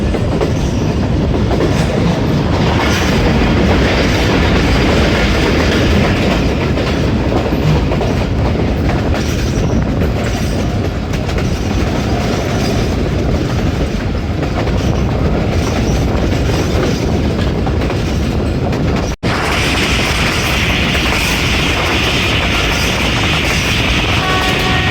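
The Khyber Mail, Pakistan's oldest train, rumbles loudly along the rails with a continuous clatter of wheels heard from on board, and a brief break near the end before the noise resumes.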